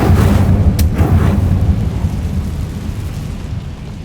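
An Incendio fire spell cast in Hogwarts Legacy bursts out as a loud, rumbling whoosh with a brief crackling flare, then roars on and slowly fades over a few seconds.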